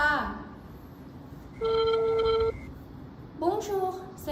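A telephone rings once in a steady electronic tone, a short sustained burst standing alone in a quiet room before a voice begins speaking.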